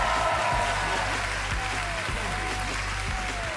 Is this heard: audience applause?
yes